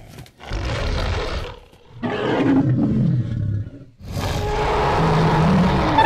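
A blue toy Spinosaurus with a red sail plays its electronic roar: three loud, growling roar bursts separated by short pauses, the last one longest, with no talking over them.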